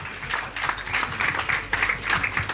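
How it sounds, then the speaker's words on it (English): A book launch audience gives a round of applause, a steady burst of many hands clapping together, moderately loud and continuous with slight swells, no speech over it. "Round of applause, please."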